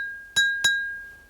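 A glass partly filled with water is struck twice in quick succession, each tap giving a bright clink that rings on as a clear sustained tone and slowly fades, alone in a quiet room.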